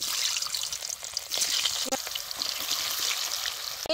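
Small potatoes dropped into hot oil over a wood-fired stove, a steady bright sizzle of frying with a few brief stirring knocks and spatters, close and continuous.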